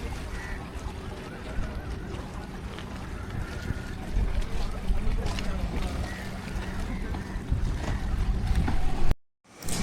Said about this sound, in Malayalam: ആ ബോട്ട് കണ്ടോ അത് ആ കായലിൽ കൂടെ മൊത്തത്തിൽ റൗണ്ട് അടിച്ച്